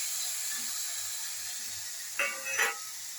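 Ridge gourd frying in a pan produces a steady hiss-like sizzle, and a louder burst of crackling rises briefly as the pieces go in near the end.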